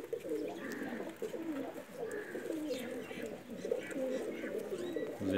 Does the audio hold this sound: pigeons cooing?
yes